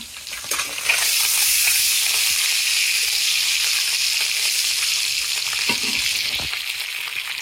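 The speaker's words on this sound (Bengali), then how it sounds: "যে ডিম আমি প্রথমে ভেজে নিই" An egg frying in a hot pan gives a loud, steady sizzle that crackles and hisses close by without a break, and no one speaks.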